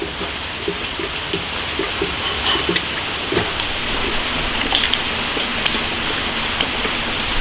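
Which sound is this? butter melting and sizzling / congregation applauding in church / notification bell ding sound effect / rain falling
rain falling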